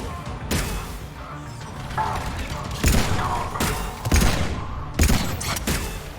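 Gunfire in the video game Mass Effect 3, several heavy sharp shots spaced about a second apart over a steady background of game noise and mechanical clatter, fairly loud and close.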